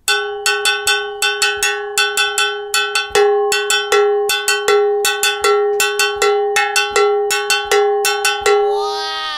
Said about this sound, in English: So to strike this cowbell, I can create a pattern, something like this.